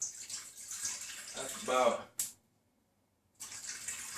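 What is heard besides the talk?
pouring water into an Instant Pot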